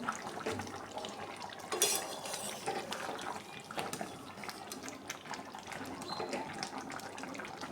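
Boiled rohu fish is stirred gently in a pan, giving soft scraping and light metallic clinks over a faint liquid bubbling, close and fairly quiet.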